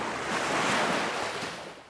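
Sea waves wash onto a sandy Mediterranean beach as a steady, moderately faint surf roar with some wind noise and no voices.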